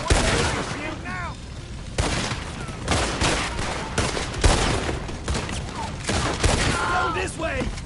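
Rapid bursts of gunfire rattle through a Red Dead Redemption 2 shootout, dense and loud, with booming shots repeating across the whole stretch while voices shout over the chaos.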